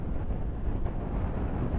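Steady, roaring wind along the Rhine in Germany buffets the microphone, a continuous low rumble with no breaks across the short stretch.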